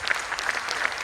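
Audience applause for teachers at an AEES gathering, a dense wash of many hands clapping steadily at moderate level through a brief stretch, with no voices over it.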